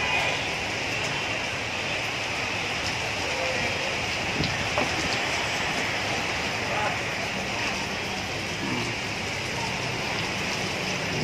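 Heavy rain driven by strong wind in Tanah Abang, central Jakarta, a steady dense roar of downpour with gusts, constant throughout and no talk heard.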